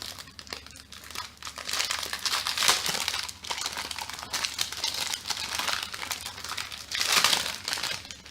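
Crinkling and tearing of plastic packaging as a Pokémon card mini portfolio is opened, a continuous close rustle with louder crunchy bursts, no talking.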